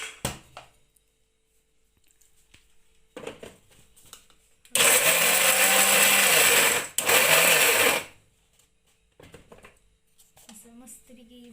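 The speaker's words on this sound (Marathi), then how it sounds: "बारीक करायचं शेंगदाणाला." Electric mixer grinder grinding peanuts in a home kitchen, two loud whirring bursts of a few seconds each with a brief gap between, framed by quiet talk and handling noise.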